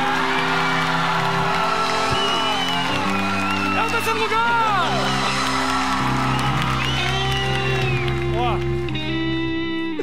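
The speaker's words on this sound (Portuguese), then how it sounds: "Uma salva de palmas." Studio audience on a Brazilian late-night talk show clapping and cheering for gymnast Diego Hipólito's world-championship third place, loud sustained applause with whoops under a presenter's excited announcement and background music.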